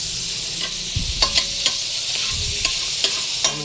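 Food fries in rendered chicken fat in a pan, a soft steady sizzle broken by a series of sharp scraping stirs from a utensil, close and moderately quiet, with no talking.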